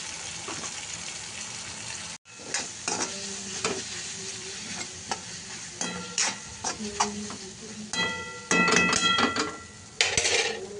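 Spices with garam masala, turmeric, coriander powder and kitchen king masala sizzle and fry in a pan while being stirred, with steady crackling and repeated scraping strokes and a few clinks of the utensil.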